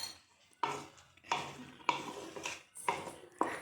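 A spoon stirs vegetable gravy with potato, carrot, beans and green peas in a pot, making five distinct scraping strokes at a slow, regular rhythm, close and fairly quiet, with a faint sizzle between strokes.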